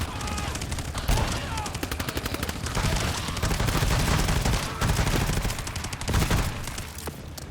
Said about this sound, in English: that shotgun blast